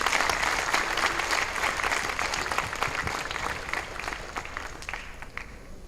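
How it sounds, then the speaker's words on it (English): Students at an electronics engineering summit applauding their dignitaries, dense sustained clapping from a large audience that stays strong throughout and gradually eases toward the end. "Give them a big round of applause"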